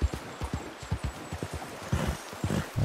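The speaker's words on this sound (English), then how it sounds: "there's a horse right there." Horse hooves clip-clop in Red Dead Redemption 2, a steady walking rhythm of close, fairly loud hoofbeats repeating throughout without talk.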